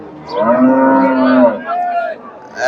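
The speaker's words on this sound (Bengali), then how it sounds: "ছয় দাঁতের গাভী" A dairy cow with six teeth at a busy Bangladeshi cattle market moos once in a long, loud, close call lasting about a second and a half, followed by a shorter second low moo.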